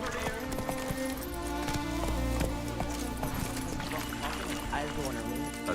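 Roach, the horse in The Witcher 3, clip-clops along at a lively gait, rhythmic hoofbeats running under game music and ambient sound, with in-game voices speaking over it.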